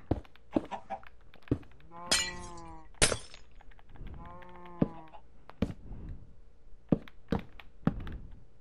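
Glass panes are placed as windows in Minecraft, sharp clicks and glassy taps repeating in an uneven sequence, with sheep bleating in between.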